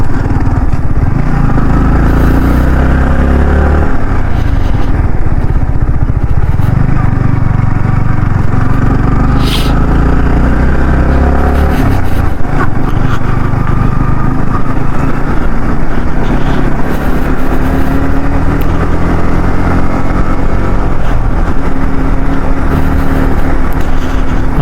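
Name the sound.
motorcycle riding, gears clunking on shifting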